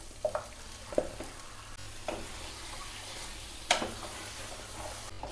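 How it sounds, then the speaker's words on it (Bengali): Marinated chicken added to a fried onion, garlic and ginger paste, giving a faint low sizzle with several sharp stirring clinks of a spoon against the pan at irregular intervals. "এখন এর মধ্যে আমি এই ম্যারিনেট করা চিকেনটা দিয়ে দেব।"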